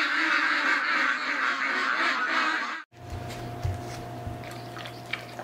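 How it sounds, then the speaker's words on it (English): A group of ducks quacks and calls in a dense, continuous chorus for several seconds, then cuts off abruptly and gives way to a quieter scene with a low steady hum and a few faint scattered calls. "Good morning, ducks!"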